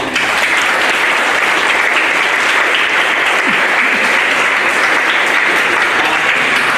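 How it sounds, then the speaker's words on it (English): A school audience at an elementary 5th grade completion ceremony breaks into dense, continuous applause, loud and sustained throughout with no pauses. "Just a round of applause for these guys again."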